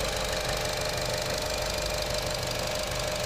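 A 2014 Buick Encore's 1.4-liter turbo engine idles under an open hood, a loud, steady, close mechanical hum with a fine rapid ticking and no talking.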